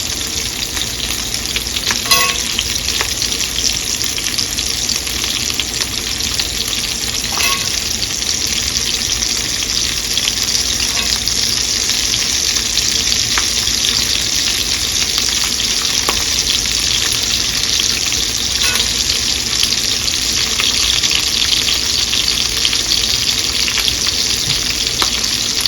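A small onion sizzles and fries in a pan with cabbage and smoked sausage, a continuous loud hiss and crackle with occasional stirring clicks, no talking.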